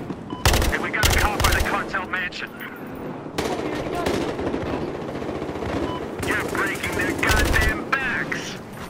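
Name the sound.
gunfire in Battlefield Hardline video game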